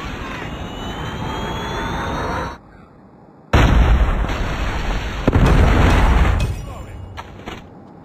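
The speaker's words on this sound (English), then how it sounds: "Predator missile inbound." A Predator missile strike in a Call of Duty multiplayer match, with loud roaring blasts and rumbling explosions that cut out briefly, then return with heavy booms and gunfire before fading.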